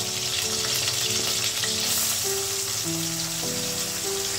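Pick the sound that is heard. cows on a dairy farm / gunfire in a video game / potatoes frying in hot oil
potatoes frying in hot oil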